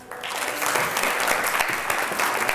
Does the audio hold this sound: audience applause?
yes